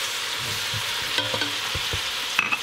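Cauliflower dropped into a hot pan for a stewed cauliflower with tomatoes and bacon, a steady close sizzle with a few clinks and stirring scrapes.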